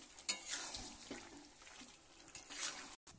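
A spoon stirs papaya and potato chicken curry in a pot, making soft scraping, light sizzle and wet clinks, faint and close with a few sharper knocks, and no talk.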